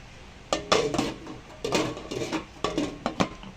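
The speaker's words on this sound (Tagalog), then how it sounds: "So, takpan na po natin para kumulo." Metal pot lid set onto a pot of chicken and moringa leaves, giving several close clattering clanks and rattles in quick bursts, alone without talk.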